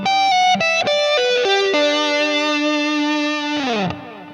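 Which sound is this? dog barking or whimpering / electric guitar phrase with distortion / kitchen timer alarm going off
electric guitar phrase with distortion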